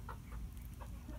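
Chickens in a large outdoor run give a few soft, short clucks, faint against steady background noise.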